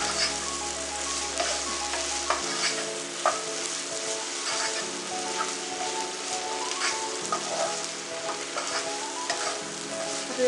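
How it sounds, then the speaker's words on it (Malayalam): Curry leaves sautéing with onions in a pan for a crab roast, a dense continuous sizzle with crackles and stirring scrapes, close, under a low steady background hum. "കറിവേപ്പിലയും കൂടെ ഇട്ടിട്ട്"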